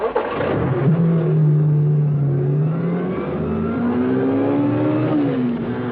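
A sports car engine revs up and pulls away, its steady mid-pitched drone rising in pitch as it accelerates, loud and close with no talking.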